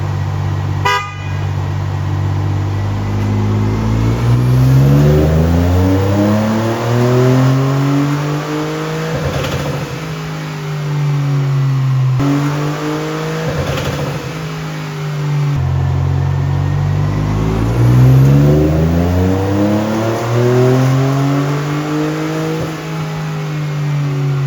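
A Ford F150 EcoBoost engine revs hard on a dyno, the loud, close exhaust note sweeping up in pitch through several full pulls, each easing off before climbing again.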